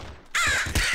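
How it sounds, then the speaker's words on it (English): A crow in the video game Nuclear Throne lets out a loud, close caw that starts abruptly after a brief quiet moment and fills the rest of the second, with a second harsh pulse near the end. "All I can hear is crows."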